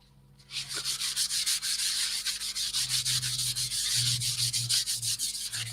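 Yorkshire grit abrasive is scrubbed onto spalted sycamore on a stationary lathe, making a steady, rhythmic rubbing hiss of quick back-and-forth strokes that stays close and fairly loud with no talking.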